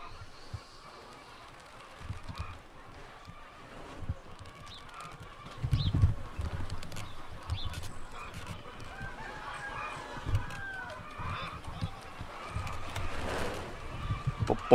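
Racing pigeons released together in Katerini, Greece, in 2020, giving a steady outdoor mix of wingbeats and bird calls over wind and low rumble, rising in bursts around the middle and end.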